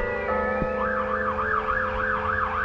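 A fire brigade siren wails steadily in the distance on a woodland mushroom-picking outing, its rising and falling tone repeating for a few seconds with no voices over it.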